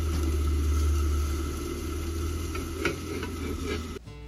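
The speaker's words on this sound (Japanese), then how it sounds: "中からグツグツと加えた水が煮立って音がしてきましたよ。" Water with diluted light soy sauce simmering over medium heat in a pot of sliced pumpkin and king oyster mushrooms, a soft steady bubbling hiss close by with a low hum underneath, no talk.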